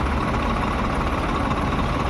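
A tractor engine idles at a market yard as it is parked, with a steady low rumble lasting about two seconds and no voices over it.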